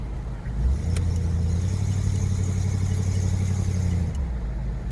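A 1978 Buick Electra Park Avenue's engine and exhaust drone steadily from inside the car while driving through Montreal, a loud low rumble that swells slightly and holds with no talk.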